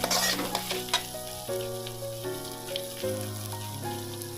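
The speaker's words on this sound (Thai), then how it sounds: "ค่อยๆผัดไปให้มันหอม" Aromatics stir-frying over medium heat in a pan for a giant catfish stir-fry, a soft continuous sizzle with light stirring, heard under tonal background music.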